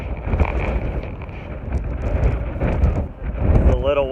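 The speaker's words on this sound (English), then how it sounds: "It's a little windy out here." Strong wind buffets the open deck of the MSC Lirica cruise ship sailing the Persian Gulf, a steady loud roar with gusty rumbling across the mic, while a person talks over it throughout.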